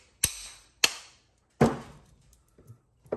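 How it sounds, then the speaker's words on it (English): A hammer strikes tongs set against a scrap electric motor while copper is being salvaged. Three sharp, loud metallic blows ring out close by, each decaying quickly, and softer knocks follow. "That's a lot of swinging that hammer"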